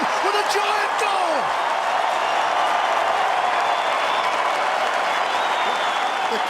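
Stadium crowd roaring and cheering after a goal at a GWS Giants AFL match, a dense sustained wall of noise with scattered claps and shouts, loud and steady throughout.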